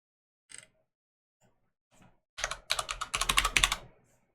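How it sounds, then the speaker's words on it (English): Keyboard typing on a computer, a few isolated taps followed by a quick, loud burst of rapid keystrokes lasting about two seconds, then silence. "Typing it."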